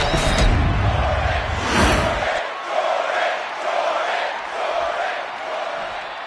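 An arena crowd in the WWE 2K25 wrestling video game roars and cheers loudly with whooshing entrance effects, then settles into a rolling, pulsing crowd din for the rest.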